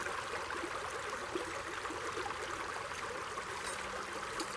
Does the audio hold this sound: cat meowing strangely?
no